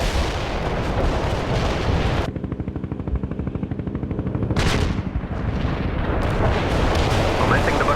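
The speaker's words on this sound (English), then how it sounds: "Launching an artillery strike on the way. Commencing the barrage." Artillery barrage in the real-time strategy game World in Conflict: loud, dense rumbling explosions, with a rapid train of booms in the middle and heavy blasts before and after.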